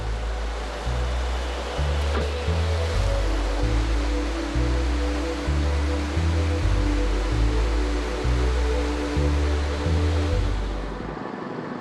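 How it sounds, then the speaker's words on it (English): Rushing white water of the Belaya River rapids in the Caucasus roars continuously, a dense broadband wash with a low pulsing rumble beneath, steady and loud throughout with no voices. "International rafting competitions take place on the Belaya River every year."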